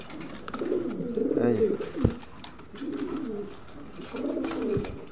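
A pair of big-size pouter pigeons, a male and a female, coo in three rounded, throaty bursts close by, with a sharp knock between them and faint background noise.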